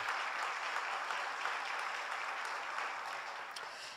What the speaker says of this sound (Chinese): 请大家用热烈的掌声欢迎他。